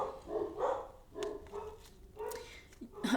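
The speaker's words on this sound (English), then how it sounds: "They're literally barking at nothing." Several dogs bark in short repeated bursts, close by, with a few higher yips and a whimper mixed in.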